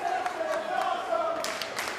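Wrestling fans cheer and chant steadily throughout a match between two men in the ring, a dense roar of crowd voices with rising shouts near the end, close and loud with no clear talk over it.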